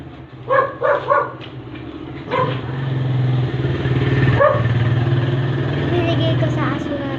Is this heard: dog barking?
yes